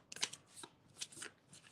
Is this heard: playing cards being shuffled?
yes